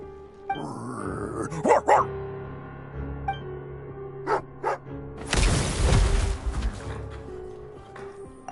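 A dog barks in a Genshin Impact game scene, a few sharp yips and woofs scattered over a steady music and ambience bed, with one louder noisy burst partway through.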